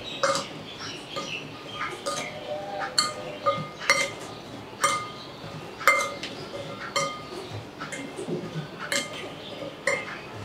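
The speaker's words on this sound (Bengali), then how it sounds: "এখন আমি এটা লবণ আর একটু মরিচের গুঁড়া দিয়ে মেখে নিব।" Hog plum pieces are being mixed with salt and chili powder, with a spoon clinking against a bowl in irregular, fairly close taps over steady low kitchen background noise.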